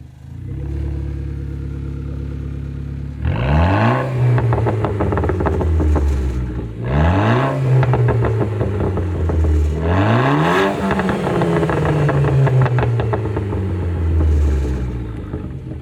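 A Renault Clio RS engine, mapped to 240 bhp, idles steadily, then revs hard three times in succession, each rev climbing and slowly falling back, loud and close with no talking.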